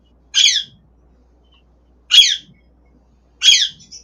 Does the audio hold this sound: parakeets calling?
yes